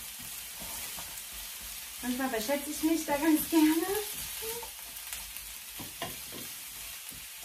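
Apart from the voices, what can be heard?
mushrooms frying in a pan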